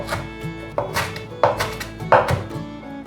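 A knife chops bok choy on a cutting board in four distinct, evenly spaced thuds, close and crisp, with no voices.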